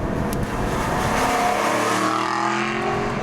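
Aston Martin V8 Vantage engine running steadily and loud throughout, a continuous rumbling drone with rising harmonic tones as revs build, no voices over it.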